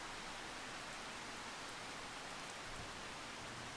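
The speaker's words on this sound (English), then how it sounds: "I mean, it's still raining, but that's fine." Steady rain in the farming video game Farming Simulator 25, an even, dense hiss of falling drops with no breaks, quiet and constant, no talking.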